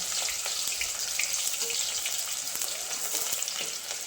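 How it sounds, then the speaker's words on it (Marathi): Onion frying in hot oil for biryani, a dense, even crackling sizzle with small popping spatters, steady and close throughout. "तर आपण टाकून घेऊ आधी कांदा"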